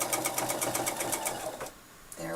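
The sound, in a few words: sewing machine sewing a straight stitch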